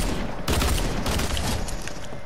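Dual pistols fire in a video game as a dense, loud burst of rapid shots that crackle continuously for about two seconds, close and unbroken.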